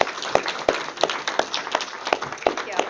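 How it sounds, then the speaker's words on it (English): Audience applause at a community stroke-awareness presentation, a modest scattering of hand claps at fairly steady intervals, somewhat distant and moderate in level. "Please, another round of applause for her."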